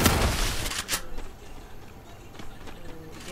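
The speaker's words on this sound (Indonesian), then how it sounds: "Dia bawa random, Aisyah dah terkena tembakan" Bursts of gunfire in a competitive shooter video game, a dense rapid volley at the start fading into scattered distant shots and impacts, moderately faint throughout.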